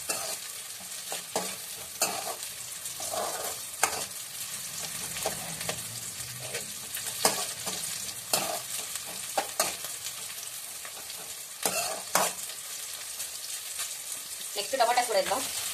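Onions and green chillies fry in hot oil in a pan with a steady sizzle, while a spoon scrapes and stirs in repeated close strokes.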